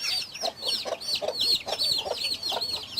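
A broody hen and her young chicks in a small coop fill the air with continuous high chick peeping over a few low soft clucks, close and lively throughout.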